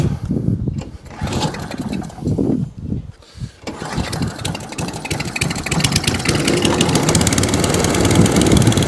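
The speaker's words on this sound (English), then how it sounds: "that's the Atco Balmoral now all up and running as it should do" Petrol engine of an Atco Balmoral cylinder lawn mower, first heard in uneven bursts, then settling into a steady, close, loud running rhythm.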